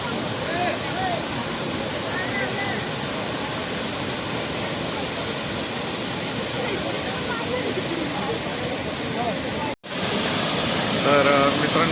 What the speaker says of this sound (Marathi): इथे विसर्ग मोठ्या प्रमाणात सुरू आहे